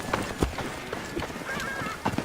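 Horses in Assassin's Creed Origins clop along with quick, close hoofbeats, and a whinny rises partway through over a steady outdoor background.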